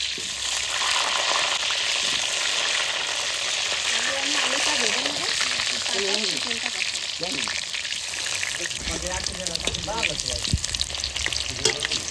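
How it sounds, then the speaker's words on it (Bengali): Oil sizzles and fries loudly in a hot wok while cooking country chicken curry, a dense continuous crackle close up with faint speech-like murmurs underneath partway through. "কড়াই গরম হয়ে গেছে এবার আমি তেল দিয়ে দেবো"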